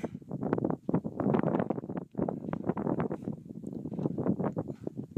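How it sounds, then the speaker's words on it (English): Gusty wind blows near an erupting volcano, heading toward Kokopo, and batters the microphone with loud, uneven rumbling bursts that rise and fall throughout. "The wind is blowing"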